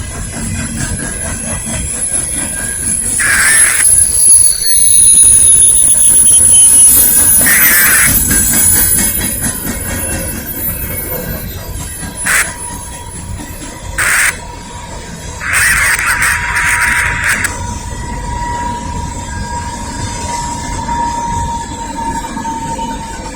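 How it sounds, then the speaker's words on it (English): A loud, fast Norfolk Southern freight train of coal cars rushes past nearby in Lynchburg, Virginia, wheels rumbling and clattering, with intermittent high metallic squeals and a steady whine as it continues. "that train is going so fast it's created its own wind."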